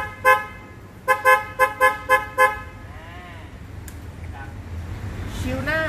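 An aftermarket PIAA horn on a Triumph T120 motorcycle blasts one short toot, then five quick beeps in a row, loud and close, followed by someone talking.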